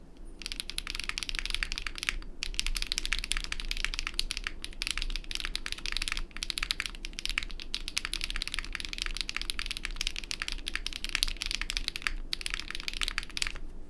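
Continuous typing on a 65% mechanical keyboard with extra keys and knobs, a rapid stream of crisp clacky keystrokes heard up close with brief pauses between bursts.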